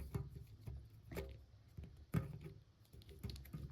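Soft plastic clicks and ratchets from the joints of a Marvel Legends Iron Man Mk 01 action figure come in small irregular bursts up close, a few sharper snaps near the end.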